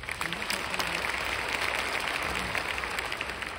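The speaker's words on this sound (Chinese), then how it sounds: "真的需要给 reway 一个掌声。" Steady applause from an audience at a community gathering, a dense, even patter of many hands that holds at moderate, slightly distant loudness for several seconds.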